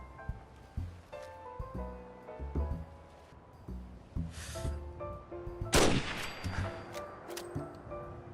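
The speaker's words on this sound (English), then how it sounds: "the Makeshift anti-material rifle is perfect for taking down any highly armored enemy" Makeshift anti-material rifle fired in Fallout 4: faint scattered thumps and clicks build to one louder sharp shot with a ringing, echoing tail, all fairly quiet amid soft in-game ambience.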